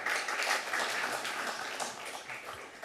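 An audience at a Costa Mesa city council meeting claps steadily, a fairly faint, even patter of many hands throughout, with no talk.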